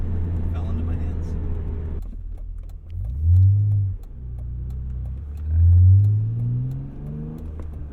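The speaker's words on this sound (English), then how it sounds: "I do like in this, you get a lot more induction noise down low." A 1999 Dinan-tuned BMW M Roadster engine revs up twice from inside the cabin, deep induction noise swelling and falling in two pushes after a steady idle, with people talking in the car.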